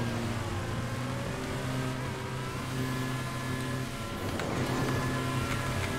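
Engine of a Pesta car during a stunt race in a video game, droning steadily with a faint rise in revs near the end, no talking.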